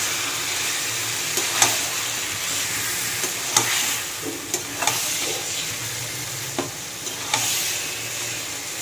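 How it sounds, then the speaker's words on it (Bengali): Chicken is added to browned fried onions and stirred in a hot pan, a constant sizzle with occasional sharp spatula clicks and scrapes, close and moderately loud, no voices. "এবার চিকেনটা দিয়ে দেবো।"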